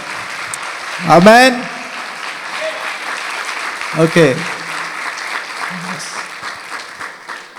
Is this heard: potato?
no